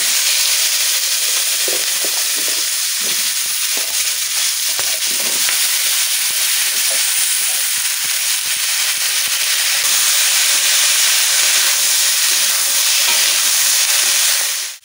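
Vegetables fry hard in hot oil with cumin seeds and bay leaves, making a loud, dense, continuous sizzle close by that holds steady throughout.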